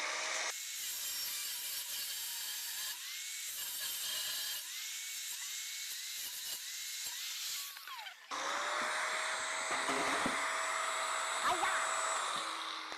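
An angle grinder with a worn-down wheel cuts into scrap metal and plumbing pipe, a sustained high whining grind close by that shifts pitch partway through.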